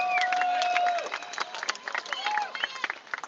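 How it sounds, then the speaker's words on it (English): An outdoor crowd at a street rally in Sydney claps and cheers, with shrill whistles rising above the applause early on and a scattered, uneven patter of clapping continuing at a moderate distance. "Give them a round of applause."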